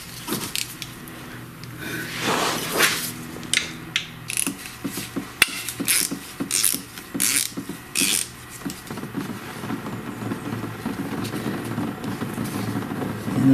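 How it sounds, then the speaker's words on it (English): A ratchet clicks in quick bursts while transmission pan bolts on a Chrysler Town & Country are loosened, close-up metallic ratcheting broken by short pauses and occasional clanks. "I'm just going to loosen this pan up all the way around"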